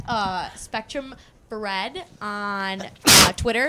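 One sharp, loud sneeze bursts out near the end, right after a stretch of conversational talk in a casual talk-show setting.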